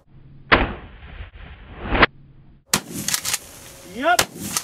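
Pardner Pump Protector pump shotgun fired outdoors at water-filled milk jugs, sharp loud blasts with pump-action clacks and echoing tails, a voice whooping briefly near the end.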